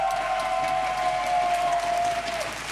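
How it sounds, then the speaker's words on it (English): Applause from a crowd at a League of Legends esports playoff event in Berlin, steady clapping with some cheering mixed in, fairly distant and continuous. "Big round of applause"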